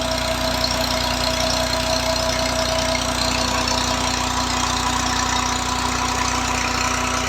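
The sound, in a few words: Massey 240 old model tractor engine running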